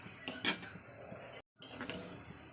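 A metal lid is set onto a pot of dal cooking with bituli, giving a couple of quick, faint clinks near the start, then a brief silence before soft kitchen clatter resumes.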